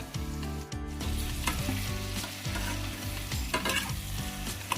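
Ginger garlic paste frying in a pan, a steady close sizzle broken by stirring scrapes, with a tonal musical hum running underneath throughout.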